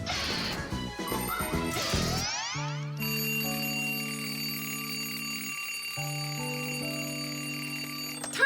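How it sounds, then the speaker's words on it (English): Cartoon alarm clock rings in a child's bedroom at night: a crashing, clanging burst gives way to a steady, loud metallic ringing that runs on with a short break and then continues. "why is your alarm clock ringing in the middle of the night"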